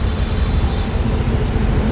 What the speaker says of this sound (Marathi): बघा किती ट्रॅफिक आहे.